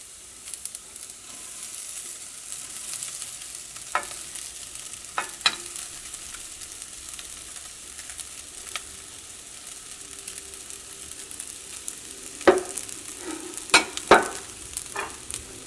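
Ground ration rice is added to a hot pan for vegetable fried rice and stirred. A continuous low sizzle runs under scattered sharp scraping and clinking strokes of a spoon, which grow busier toward the end. No one speaks.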